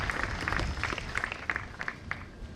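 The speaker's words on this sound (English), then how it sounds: "Let's give her another round of applause." Applause from a crowd at a university graduation ceremony in Kisumu, a fairly distant, steady wash of clapping lasting the whole stretch, with faint voices mixed in.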